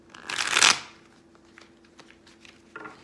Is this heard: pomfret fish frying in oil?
no